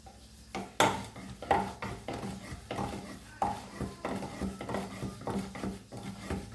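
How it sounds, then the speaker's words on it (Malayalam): Chapati dough is rolled out on a board with irregular knocks, rubs and light clatters of the rolling pin, close and fairly quiet, with brief pauses between strokes. "ഇനി ഇത് നമുക്ക് പരത്തിയെടുക്കാം."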